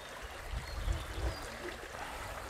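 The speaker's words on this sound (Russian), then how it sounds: "Журчит вода, так приятно." Faint, steady babbling of a small stream trickling over stones, continuous and soft with no voices.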